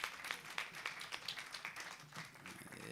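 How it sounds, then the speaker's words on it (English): An audience at a CEO conclave and investors forum claps in a short, quiet round, with individual hand claps standing out faintly against a soft room background. "So please help me to clap for Eugene."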